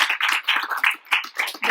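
Close, sharp hand claps ring out in quick uneven bursts at a women's day panel event, a small audience applauding briefly and nearby.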